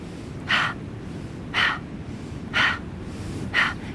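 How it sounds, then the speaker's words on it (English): Forceful yoga breathing in through the nose and out hard through the mouth, with four sharp, evenly spaced exhale bursts about a second apart, close and distinct over a soft steady background, with no talking. "Inhaling through the nose and exhaling strong out the mouth"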